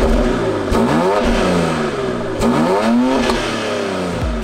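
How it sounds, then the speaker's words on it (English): 2020 BMW X3 M with a 3-liter straight six, exhaust in quiet mode, revving in several rising and falling blips, close and steady with a muted engine drone throughout. "It's got a quiet mode, which sounds like this."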